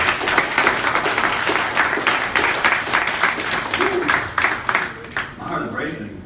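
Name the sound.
audience applause for debaters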